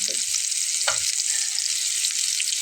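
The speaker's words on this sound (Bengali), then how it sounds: "ওই পাশটাও কিন্তু ঠিক এভাবে একটু লাল লাল করে ভেজে নিতে হবে" Eggplant slices fry in oil in a pan with a close, even sizzle throughout, and a couple of faint knocks sound against the pan.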